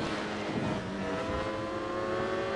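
Ducati Streetfighter V4S motorcycle in RIDE 4 racing at full throttle, a loud, dense engine roar with rising and falling pitch as it revs, continuous and close with no voices.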